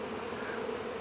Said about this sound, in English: these bees are returning back to the hive